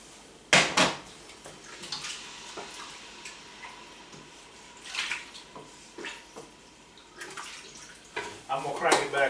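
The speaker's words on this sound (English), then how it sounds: "That's 6 cups of water right here." Water is poured into a pot for chili in a home kitchen, with intermittent splashing pours and clanks of the pot at close range, between quieter gaps.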